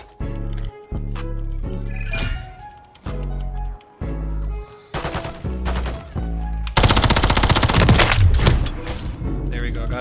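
Automatic weapon fire in Black Ops 6, loud close bursts of rapid shots with short pauses between them and a dense sustained volley near the end, mixed with game sounds.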